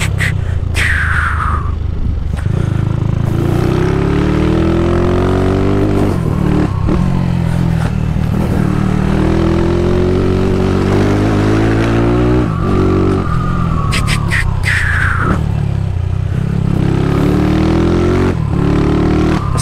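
Loud, close engine of a Kawasaki KLE motorcycle, newly bought, revving and shifting through gears while riding, with rising and falling pitch, steady throughout and no talking.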